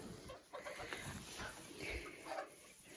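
Chickens clucking in a farmyard flock that includes a bantam rooster, a busy jumble of overlapping clucks and calls at moderate distance.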